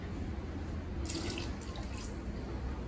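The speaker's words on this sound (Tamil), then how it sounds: "3 டம்ளர் அரிசிக்கு 5 டம்ளர் தண்ணி ஊற்றிட்டேன்." Water is poured onto rice for cooking in a home kitchen, giving a faint, steady splashing stream that brightens into a fuller pour partway through.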